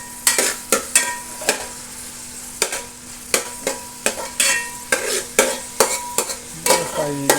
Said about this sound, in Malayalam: ഒന്നുകൂടി ഒന്ന് ഇളക്കി കൊടുക്കണം കേട്ടോ അല്ലെങ്കിൽ അടിക്ക് പിടിക്കും കാരണം സവാള പെട്ടെന്ന് അടിക്ക് പിടിക്കും